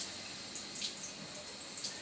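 Water running steadily from a Chanson water ionizer into test tubes, a soft continuous hissing stream, fairly faint and unbroken, with no voices.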